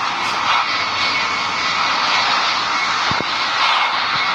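A steady airplane engine drone in flight inside a video game, continuous and moderately loud with a couple of brief low thumps near the end.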